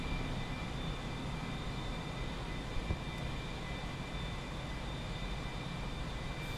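Steady airplane engine roar from a flight simulator game during takeoff, a continuous broadband drone with faint high whine held evenly throughout, no talk over it.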